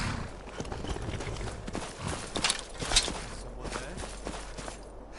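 Horse hooves walking in Skyrim, a steady run of soft footfalls laid over a continuous outdoor ambience, moderately close, with no talking.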